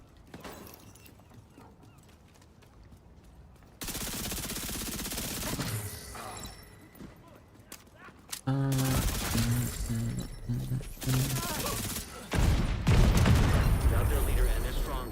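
Bursts of rapid gunfire and explosions from the shooter game The Division 2, loud and dense in the second half, with a person talking over the action.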